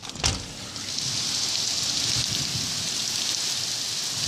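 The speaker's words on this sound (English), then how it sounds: "That's the rain." Heavy rain pours onto the roof of a black truck, a dense, steady hiss that stays close and loud throughout after a brief softer start, with no voices.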